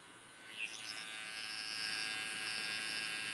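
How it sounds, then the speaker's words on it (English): An electric beard trimmer buzzes steadily close up while tapping in a beard line, the motor hum holding constant with a slight rise after a brief clicking contact near the start. "We want to tap, tap, tap the line in, and then pull our trimmers up to that line."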